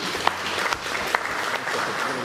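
A burst of audience applause at a London book launch, many hands clapping steadily throughout, with a few sharper claps standing out.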